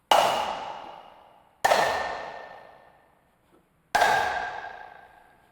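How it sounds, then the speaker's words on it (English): Tiny marimba sample from a virtual cinematic instrument: three bright struck notes with slowly decaying ringing tails, spaced apart and clean, with no other sounds. "Tiny marimba here."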